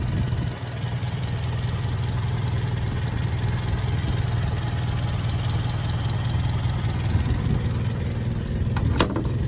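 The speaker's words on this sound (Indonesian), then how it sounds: "Ini dia untuk suara mesinnya" A Fiat 1100 E classic car sits at idle, its engine running smoothly with an even, steady low hum and faint regular knocking, close by and unchanging, ending with a brief click.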